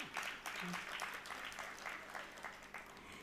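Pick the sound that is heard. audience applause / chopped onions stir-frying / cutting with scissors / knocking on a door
audience applause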